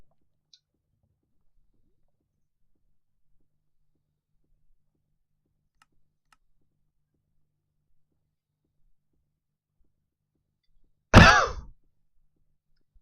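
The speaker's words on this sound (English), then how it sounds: "as I coughed there." A single sharp, close cough breaks an otherwise near-silent stretch while someone plays a Minecraft modpack.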